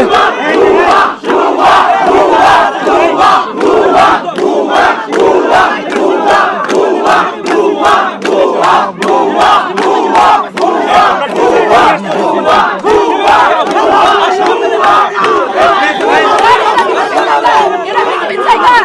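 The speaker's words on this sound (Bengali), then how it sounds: "ভুয়া স্লোগান দিচ্ছে।" Loud dense crowd of students on a campus chanting a slogan in rhythmic unison, shouted voices pulsing steadily throughout, close and continuous.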